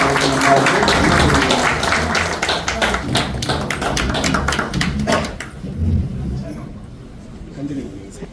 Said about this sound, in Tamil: எல்லாரும் நல்ல பலத்த கைத்தட்டல் கொடுங்க